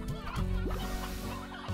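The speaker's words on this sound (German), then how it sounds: "Hier habt ihr Gestrüpphühner." Scrub chickens clucking in Slime Rancher, a short burst of close, busy fowl clucks and chatter over a dense game background.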